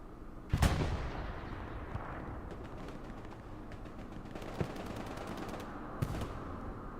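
A rocket launch in Hell Let Loose, a World War II shooter, bursts out with a loud sharp blast, followed by distant scattered gunfire and further shots across a noisy battlefield.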